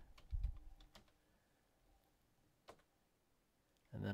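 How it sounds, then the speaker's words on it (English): A computer keyboard is typed on in a quiet room, a few scattered soft key clicks spread over several seconds, followed by a louder burst of handling noise at the end. "So down here, I'm going to type something."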